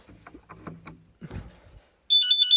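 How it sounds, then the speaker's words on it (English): A shed's alarm system goes off, a loud, steady electronic beeping with a repeating pulse that starts abruptly near the end, right after a stretch of indistinct voices. "I do have an alarm system inside my shed"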